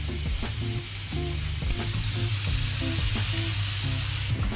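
Lamb kofta patties sizzle steadily in a frying pan, a constant close hiss and crackle with scattered pops and faint clinks, no voices.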